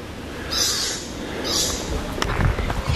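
Birds call in short bursts against a dense jungle background on Babanga Island, a couple of bright chirping phrases standing out before rustling noise.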